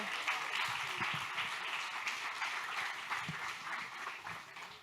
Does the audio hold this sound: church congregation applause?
yes